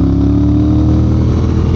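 The engine of a Triumph Speed Twin motorcycle drones steadily while riding, a loud, constant low rumble with wind noise and no pauses.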